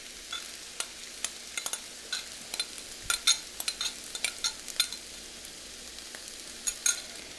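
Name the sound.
stirring stuffed pepper filling with tomato sauce and rice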